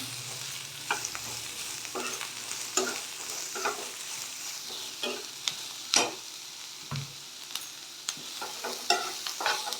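Salted vegetables for vermicelli upma fry on high flame under a steady hiss, with frequent scraping and clattering strokes of a spoon against the pan, close and free of speech.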